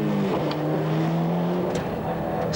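A four-wheel drive Group A Cosworth rally car, self-prepared, racing on a park stage at the 1991 Lurgan Park Rally, its engine droning with a shifting pitch, with brief sharp noises over the top.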